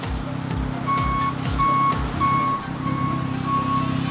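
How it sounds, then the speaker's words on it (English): A tow truck's reversing alarm beeps in a steady repeating rhythm, loud and close, over the low rumble of its idling diesel engine. "the tow truck's here."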